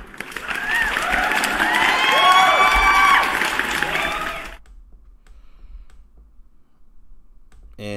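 During a live Bitcoin stream, a burst of crowd cheering and applause with bright whistle-like tones plays loudly for about four seconds, then cuts off abruptly into near silence with a faint click at the end.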